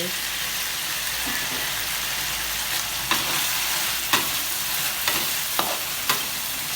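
Shrimp and stink beans stir-fried in a wok, a steady close sizzling hiss punctuated by several sharp scraping strokes of the spatula against the metal in a loose rhythm.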